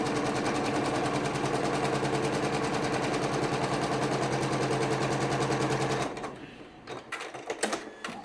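A sewing machine stitching a mitered quilt binding, a fast, even run of close mechanical stitching for about six seconds, then stopping and leaving quieter handling clicks and rustles.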